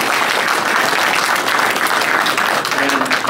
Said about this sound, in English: She deserves the applause.